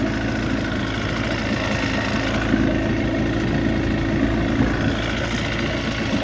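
A 35hp Johnson outboard motor runs steadily after its electric starter is bumped, a close, continuous idling engine drone with a throbbing rhythm and no speech over it.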